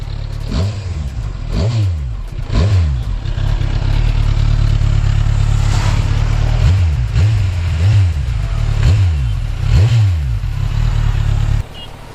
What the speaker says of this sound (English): now let's hear the exhaust note of it